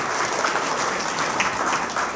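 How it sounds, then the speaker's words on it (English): Steady applause from a hall audience honoring prior Palmerton inductees at a county sports hall of fame ceremony in a memorial hall, a dense, even clapping that continues unbroken at moderate loudness. "Let's have a nice round of applause for our prior inductees representing Palmerton."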